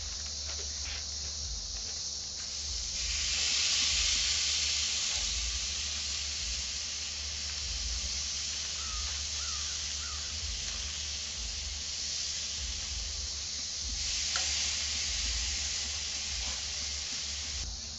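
Marinated steaks sizzle steadily in a hot pan as they begin to cook, a continuous loud hiss that swells slightly midway and holds throughout with no talking.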